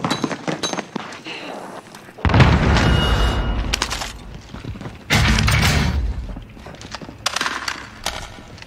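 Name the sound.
grenade explosion in Warzone video game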